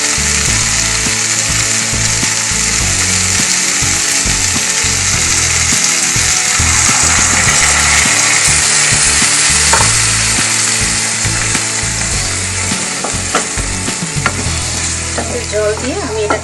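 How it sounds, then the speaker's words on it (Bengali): Water hits a hot pan of matar paneer curry seasoned with sugar, setting off a loud, continuous sizzle and bubbling broken by stirring clatter, close and unbroken throughout. "এবার এটার মধ্যে আমি একটু জল দেব।"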